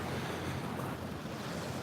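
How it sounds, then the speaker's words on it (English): Gentle ocean waves wash steadily onto Patong Beach at sunrise, a continuous broadband surf rush with light wind buffeting the microphone and no voices. "the waves, are not overly powerful, certainly not surfboard quality waves"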